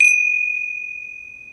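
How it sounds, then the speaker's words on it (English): A single gong stroke opens a Hindu puja, with a bright, sharp attack settling into one clear, pure sustained tone that rings on steadily and slowly fades, close and alone. "I'm going to open and close the puja with a gong."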